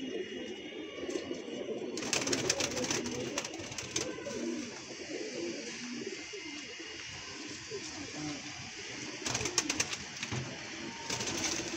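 Domestic pigeons coo softly in a new loft, a low burbling murmur running steadily throughout, with brief bursts of rustling and wing flutters now and then.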